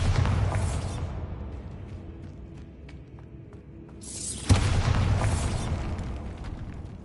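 A Bombarda blasting spell from Hogwarts Legacy, played on PS5, bursts with a sharp boom partway through, set against a dense roar of game ambience and music that swells before and after the blast.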